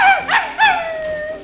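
A dog gives two short, close yelping barks followed by a drawn-out whining howl.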